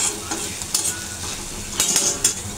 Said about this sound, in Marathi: इथे विशालने कांदा परतायला ठेवला